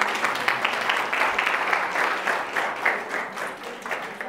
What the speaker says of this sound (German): Noch nichts geleistet und schon Applaus.